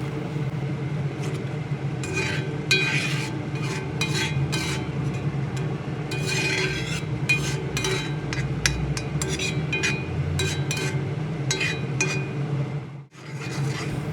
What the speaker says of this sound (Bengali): সব উপকরণ আবারও খুব ভালোভাবে ঘুটে ঘুটে মিশিয়ে নেব এবং দই সহ মশলা আবারও খুব ভালোভাবে কষিয়ে নেব